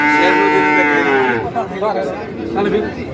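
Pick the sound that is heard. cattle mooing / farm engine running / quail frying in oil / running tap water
cattle mooing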